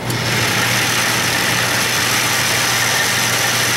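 A Craftsman 6-inch metal lathe with a newly installed chuck runs steadily without cutting, giving a constant close motor hum and whine with a broad mechanical hiss throughout.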